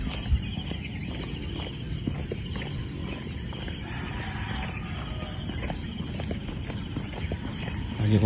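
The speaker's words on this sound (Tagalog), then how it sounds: "naririnig na po ang huni ng mga kuliglig pati tikling" Crickets chirp steadily in the early morning, a constant high-pitched trill layered over faint low rural background noise, with no talking.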